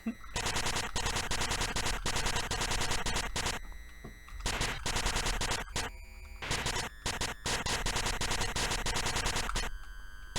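Rapid-fire gunshots from a FNaF fan game blast in dense, loud volleys, fired so quickly they merge like a shotgun, broken by a few short gaps.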